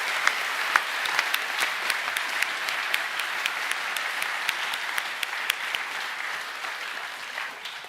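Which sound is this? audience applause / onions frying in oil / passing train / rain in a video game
audience applause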